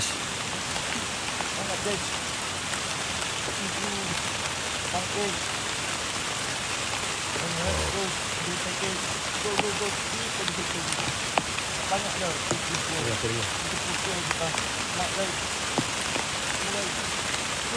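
Heavy rain pours steadily throughout, a dense hiss of drops drumming on a surface, with faint voices murmuring underneath.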